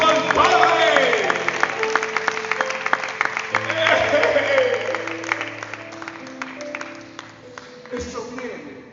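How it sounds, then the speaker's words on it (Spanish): A church congregation breaks into applause for the priest at a Spanish-language service, clapping spread across the room under a preacher's voice and sustained tones, tapering off toward the end. "Dale un fuerte aplauso al Padre"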